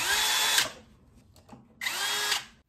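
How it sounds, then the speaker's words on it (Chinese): A power screwdriver drives screws into the cover of an electric clothes-drying rack motor: two close, loud whirring bursts separated by a short pause with faint handling clicks. "盖子给它重新装回去，螺丝上紧"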